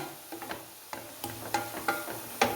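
Leafy greens for a Kerala thoran are stirred in a pan, with a spoon scraping and knocking in irregular taps over a soft, faint sizzle, no talking.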